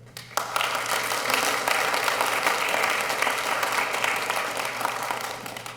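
An audience claps at a city council meeting in a chamber. The applause breaks out suddenly after a moment of quiet and stays sustained and even at moderate loudness, with a steady low hum beneath it.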